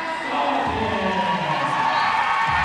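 Crowd at a high school district championship basketball game cheering and shouting continuously, a dense roar of voices with whoops, mixed with an announcer's talk.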